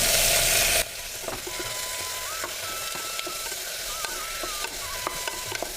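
Medium-sized tomatoes and a few curry leaves sauté in a pan as part of a Tamil tiffin dish, giving a steady close sizzle with soft occasional scrapes of a stirring spoon and a louder burst at the start.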